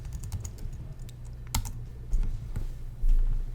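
Computer keyboard keys tapped while working in Rhino 2D drafting software, a quiet scatter of clicks with a few sharper presses, likely arrow keys and Enter, spaced irregularly and heard alone.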